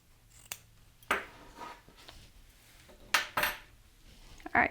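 Sharp scissor snips cut through an interfaced lapel's seam allowance while grading it for a sewn jacket, a few separate crisp cuts spaced a second or two apart, close and clear with no talk.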